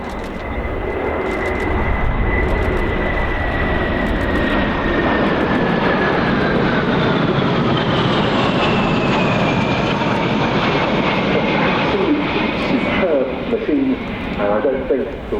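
A military aircraft flies past at the Royal International Air Tattoo airshow, its loud, sustained engine roar shifting slowly in pitch while a commentator's voice runs over it.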